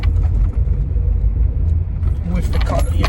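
A car rolling slowly along a dirt road just after leaving a house, with a low steady engine rumble and crunching, rattling road noise close up, and a voice talking over it.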